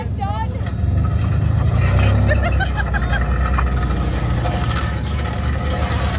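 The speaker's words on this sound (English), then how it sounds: "car sounds like what it looks like" A Ford Falcon AU drifting, its engine roaring loudly with rising and falling revs beneath a rough, gritty exhaust note, close and continuous with some scraping noise.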